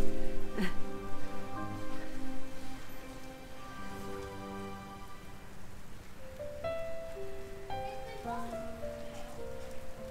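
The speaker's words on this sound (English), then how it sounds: "Yeah, but it's hail." Hail falling during a storm beside the River Thames, a steady pattering hiss on nearby surfaces lasting throughout, with faint tonal sounds and a low background rumble beneath it.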